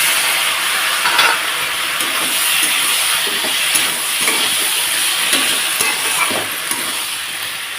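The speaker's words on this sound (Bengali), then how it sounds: "দেখো মশলাটাকে দিয়েও ভালোভাবে কষিয়ে নিচ্ছি তো আমি সামান্য পরিমাণ একটু বাটিটা দিয়ে জল দিয়ে দিলাম" Spice paste fries and is stirred in a pan for a vegetarian vegetable dish, with a little water added: a steady, loud sizzling hiss broken by repeated scraping strokes of the stirring utensil, with no voices.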